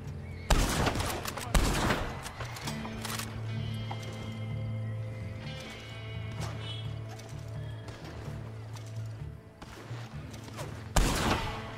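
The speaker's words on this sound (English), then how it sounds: "Ooh, I hear a gunshot." Gunfire in the online western game Red Dead Online: a few loud bursts of shots near the start and again near the end, with horse hooves and a steady hum between them.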